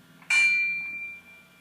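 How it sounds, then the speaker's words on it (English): A metal cooking pot struck once with a knife, used in place of a bell, rings out with a sharp clang and a clear, sustained metallic tone that slowly fades, heard alone and fairly close. "I just used a pot with a knife. It makes the perfect sound, though. It sounds like a bell."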